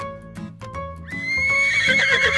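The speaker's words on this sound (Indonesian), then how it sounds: "Tiga, kuda, horse." A horse whinnies loudly and close by in a long rising neigh, preceded by a few hoof clops. No voices are heard.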